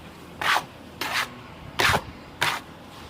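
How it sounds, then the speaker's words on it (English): Silicone thin coat render is rubbed gently onto a wall in four short, even scraping strokes spaced about half a second apart, close and distinct against quiet. "And then just sort of rub it in gently, sort of this way."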